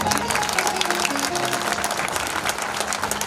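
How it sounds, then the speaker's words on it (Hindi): Audience at a Hindu religious discourse gathering clapping steadily and densely, a continuous wash of applause with no voices over it. "एक बार आप सब भी ताली बजा करके"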